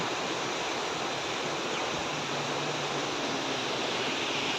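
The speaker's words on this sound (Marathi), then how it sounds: "हा धबधबा नसून ही नदी आहे" A river near Baneshwar Temple in Pune rushes in a steady, dense wash of flowing water, close and unbroken, with no voices.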